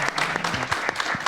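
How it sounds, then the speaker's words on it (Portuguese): Audience applause breaks out after a talk at a literature event, a steady wash of many hands clapping at close range with a few sharper individual claps standing out, continuous for the whole moment. "Registramos aqui no aplauso o agradecimento ao Pedro, à Eliana"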